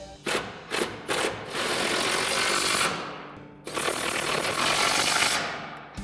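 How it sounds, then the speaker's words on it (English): An impact wrench fitted with a 15 mm socket and extension hammers away during a bed step install on a 2019-2024 RAM 2500, with a few short bursts and then two long, loud rattling runs close by. "we've got our 15 mil socket and an extension on our impact"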